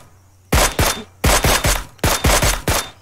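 Gunfire from PUBG, loud and close: three bursts of rapid shots, each bursting with three or four sharp cracks, separated by short pauses.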